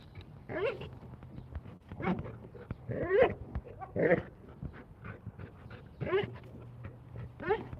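Several dogs play close by, giving repeated whines, yips and short vocal bursts in an uneven rhythm, with low background rumble between outbursts.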